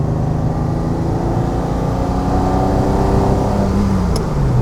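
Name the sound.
Ferrari 330 GTC V12 engine driving and shifting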